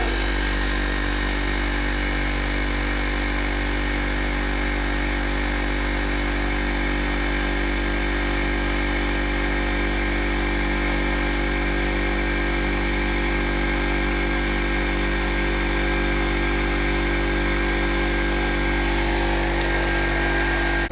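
Compressor of a Zanotti walk-in freezer, fitted with a replacement unit, running steadily after restarting from a defrost: a loud, continuous mechanical hum with a strong low drone and a broad whirring hiss, no talking.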